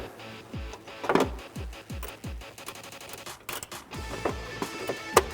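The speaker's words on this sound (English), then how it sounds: "I'm going to take my ratchet," A ratchet with a 10mm socket working a nut behind a Ford Mustang front bumper inside the wheel well, giving a quick series of close, sharp clicking pawl strokes in uneven bursts with some clanks of the tool.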